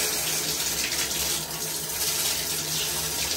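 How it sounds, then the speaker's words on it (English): Hands are washed under a steadily running tap after handling plants and pots, the water gushing loud and continuous with no voices. "Washing my hands, removing what's there."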